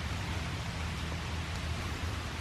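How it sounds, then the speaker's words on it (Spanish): Rainwater runoff rushing down a forested mountainside in Chipinque, Monterrey, a steady broadband wash of flowing water with no voices, heard close and constant. "por ahí está pasando una corriente de agua de lo que ha llovido"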